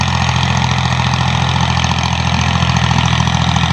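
A Massey Ferguson 240 tractor pulls an 18-disc harrow through a field, its engine a loud, steady, close-up drone that stays unbroken throughout with no voices.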